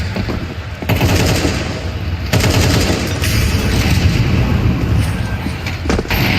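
A grenade and a Molotov go off during a Counter-Strike match between Vitality and FaZe, sharp bursts followed by dense crackling fire and explosive noise, loud and continuous, with a commentator's voice underneath.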